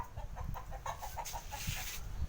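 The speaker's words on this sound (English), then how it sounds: "I'm just going to chase a chicken away" A chicken in the Philippines clucks in a quick, steady run of short, sharp notes late at night, fairly close and loud over low background rumble.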